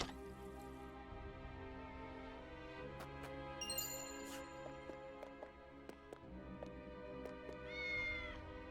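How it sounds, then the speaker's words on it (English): A cat in the game Triangle Strategy meows several times in short, clear calls over looping background music with soft dripping tones. Nobody talks. "Kitty."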